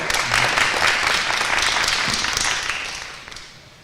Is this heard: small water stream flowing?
no